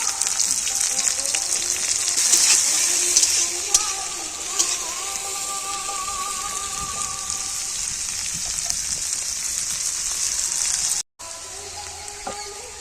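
Chopped onion and green chillies fry in a pan with a loud, steady hiss and crackle, close up and continuous, briefly cut off near the end before resuming, while faint voices murmur underneath.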